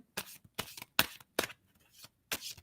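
Cards riffled in several quick bursts separated by short pauses, crisp and close, with no talking.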